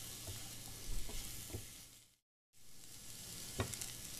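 Raw gram flour roasting with tinda (Indian round gourd) in a pan gives a steady soft sizzle with light scraping stirs, briefly cut to silence midway.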